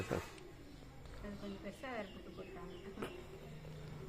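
Chickens clucking in a village, with short clucks and squawks, a sharp call at the start and another near the end, mixed with nearby people talking.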